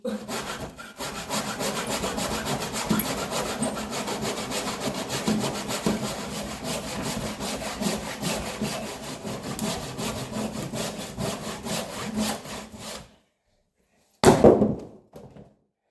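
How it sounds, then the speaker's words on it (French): Steady rasping back-and-forth strokes of a hand saw cutting up through a wooden beam from underneath in a cellar, running continuously for about thirteen seconds, then silence and a short wooden thunk at the end. "ce qu'on va faire, c'est qu'on va scier par en dessous"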